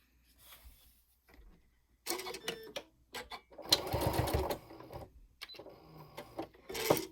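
A domestic sewing machine stitches elastic onto a fabric sleeping eye pad, running in several short bursts with pauses between them, close and moderately loud, with one longer rattling run in the middle.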